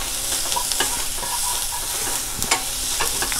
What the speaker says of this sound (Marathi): अजून छान आपला हा कांदा परतायला हवा आहे, पूर्णपणे कांदा अगदी व्यवस्थित शिजायला हवा आहे.